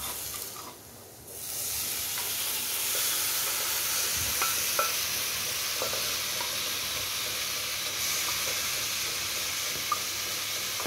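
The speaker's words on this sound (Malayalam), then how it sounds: "ഇതിലേക്ക് നമ്മൾ വേവിച്ച് വെച്ചിരുന്നു പയറിട്ടിട്ട്" Cooked green gram is stirred into masala frying in a pan for a Kerala puttu and payar dish, giving a steady close sizzle and hiss with soft scraping stir strokes scattered throughout and no voices.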